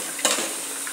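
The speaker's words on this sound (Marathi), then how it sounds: "हे सुद्धा आपल्याला चांगलं यामध्ये परतून घ्यायचं।" Ambadi bhaji with peanut powder, peas and salt is stirred in a frying pan, giving a brief, close scrape of the spoon over a soft continuous sizzle.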